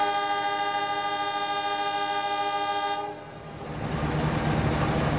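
A CC201 diesel locomotive sounds a long, steady multi-tone horn as the Joglosemarkerto passenger train departs a station, held for about three seconds before giving way to the rising rumble of the engine accelerating.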